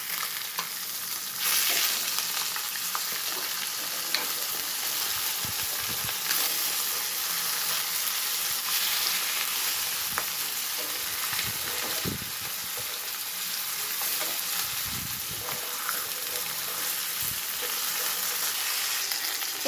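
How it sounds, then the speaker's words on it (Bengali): Large pieces of silver carp fry in oil in a pan, giving a continuous, even sizzle with occasional soft scrapes and stirring knocks throughout. "এই তো আমার মাছগুলো ভাজা হয়ে গেছে।"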